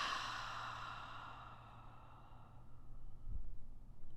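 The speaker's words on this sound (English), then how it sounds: "take a nice deep long breath through the nose. An audible exhale." A long, audible breath through the nose during a gentle yoga flow trails off softly, followed by a quieter airy rustle, close and with no talking.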